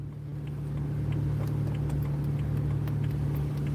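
A BMW N54 335i engine running rough after a water pump replacement, a steady low idle drone with a faint irregular ticking over it, heard close and without talk.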